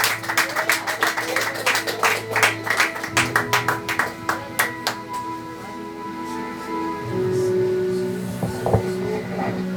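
A church congregation claps in a rhythmic, fairly quick beat for several seconds before the clapping fades into a sustained crowd murmur and tonal hum. The sound is moderately loud and reverberant, as in a large hall.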